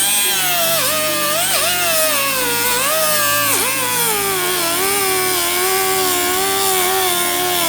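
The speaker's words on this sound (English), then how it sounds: "I just got a little cutoff wheel, and essentially I'm just going to go right along this front edge to get rid of this and smooth it up" A small cutoff wheel grinds along the plastic front bumper lip of a BMW F80 M3 / F82 M4, a loud, continuous high-pitched whine that dips and wavers in pitch as the cut progresses, with no talking.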